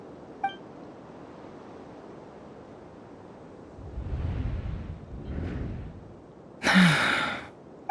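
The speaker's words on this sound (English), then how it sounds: "I heard Jahoda gasp" Jahoda, a character in a Genshin Impact cutscene, gasps: soft breathy intakes over quiet background ambience, followed by a sharper, louder gasp near the end with a faint metallic chink.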